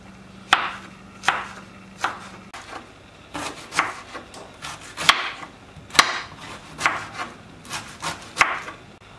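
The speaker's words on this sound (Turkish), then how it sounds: "Lap narın doğrayırıq." Cabbage is finely chopped with a knife on a board in a steady run of sharp, close cuts, about two per second, with no talking.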